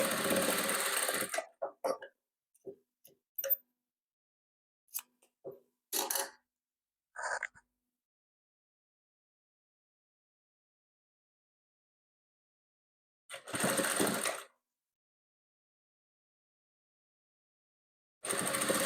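A sewing machine stitching patchwork pieces for a Kazakh tulip-pattern quilt runs in short close bursts, then falls quiet for long stretches before two more runs of steady whirring.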